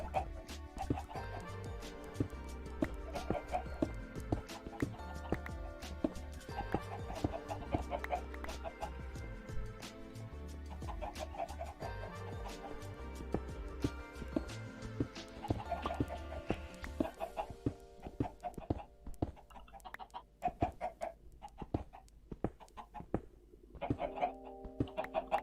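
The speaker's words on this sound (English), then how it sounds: "chicken make me jump sometimes with their screams" Chickens cluck and squawk in the blocky survival game Stoneblock 2, a Minecraft modpack, with repeated clucks over game music and ambient tones, the mix thinning toward the end.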